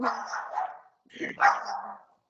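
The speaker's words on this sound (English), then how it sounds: "he was just barking at someone at the door" A dog barks in two short bursts separated by a brief pause, fairly close and moderately loud, with a whiny, yipping edge.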